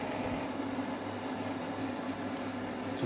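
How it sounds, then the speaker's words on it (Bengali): Battered fish dropped into hot oil for crispy Fish Orly gives a steady, faint hissing sizzle of frying that holds evenly throughout without any talk. "দেখতেই পাচ্ছেন আমি মাছ এর মধ্যে ঢেলে দিয়েছি।"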